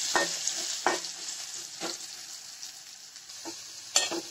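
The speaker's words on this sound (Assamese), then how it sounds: "আলুখিনি ফ্ৰাই কৰা হৈ গ'ল।" Potatoes frying in hot oil in a pan while paneer is being made, a continuous close sizzle broken by several sharp stirring scrapes spaced roughly a second apart, with no talking.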